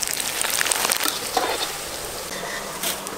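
Corn puffs frying in hot oil for coconut flower street food: a dense, continuous crackling sizzle close by, with scattered sharper pops and stirring scrapes throughout.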